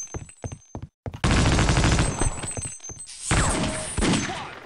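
Automatic weapon fire from Half-Life: Opposing Force rattles in loud, close bursts after a few short sharp shots, with a brief gap before the heavy firing sets in and tails off.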